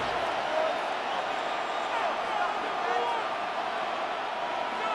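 Steady, broad roar of a stadium crowd in the Madden NFL 26 football game, an even wash of noise with no distinct peaks, with a commentator's voice faintly beneath it.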